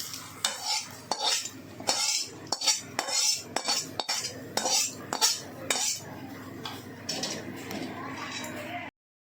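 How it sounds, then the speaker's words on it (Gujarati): Spoon scraping and clinking against a metal bowl or pan while spices are mixed into mashed potatoes for a fasting-style samosa filling, rapid rhythmic taps and scrapes up close, then a short softer stretch before the sound cuts off. "હવે તેને આપણે જે આ ક્રોસ કરેલા બટાકા છે તેમાં એડ કરી દઈશું જો આ રીતે આપણે મિક્સ કરી લેવાનું છે"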